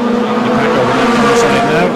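Race cars circle a track, their engines roaring loud and continuous as one car spins out on a turn, with a commentator talking over the noise.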